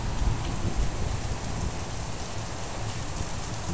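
Steady heavy rain pours onto a car and street, roaring close by, a dense continuous downpour with a slightly louder rumble at the start.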